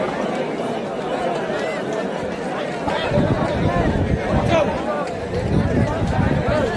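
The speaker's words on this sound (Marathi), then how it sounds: "खूप मोठ्या प्रमाणामध्ये गर्दी झालेली आहे." Large crowd packed together at the Shivaji coronation ceremony at Raigad fort, a steady dense babble of many voices and shuffling, swelling louder and busier in the second half, with nearby talk mixed in.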